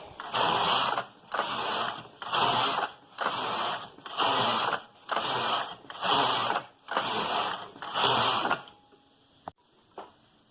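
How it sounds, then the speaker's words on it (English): A domestic knitting machine's carriage swept back and forth across plain rows of stitches, giving nine loud, regular rasping passes about a second each with brief gaps, followed by a couple of faint clicks. "So now I can just push this back to upper working position and keep on knitting."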